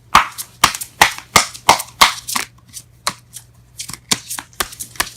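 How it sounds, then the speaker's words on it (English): Tarot cards being shuffled by hand, a quick series of about a dozen crisp riffling slaps and flutters, close and fairly loud. "Let's try that again without the cards exploding."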